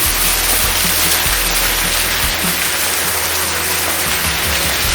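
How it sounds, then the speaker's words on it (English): A waterfall at the end of the Hidden Haven Trail in Parowan Canyon roars steadily and close, a dense, unbroken wash of falling water with no voices. "This is the beautiful waterfall at the end of the Hidden Haven Trail."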